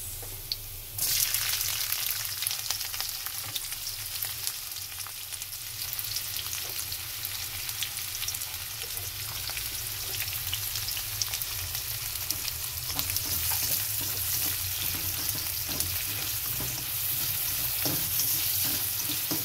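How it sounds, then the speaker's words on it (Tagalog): Onions sizzle steadily in hot oil in a pan after the garlic has browned, a continuous bright crackle that jumps up loudly at the start and stays close and even, with a few faint clicks over it. "Add na natin ang sibuyas."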